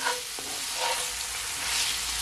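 Salt fish sautés in a pan on the stove for Jamaican ackee and saltfish, giving a steady close sizzle and frying hiss with a light stir or clink of a utensil near the start.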